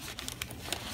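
A plastic bag crinkles in a few short, sharp bursts close by, brief rustling crackles over a quiet background in a school science demonstration.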